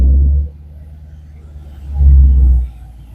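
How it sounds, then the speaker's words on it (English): Engine of a 1953 Chevy with an LS swap roars up twice in a burnout, a heavy low rumble swelling for half a second, easing to idle, then surging again for nearly a second before dropping back. "Oh yeah, doing a burnout"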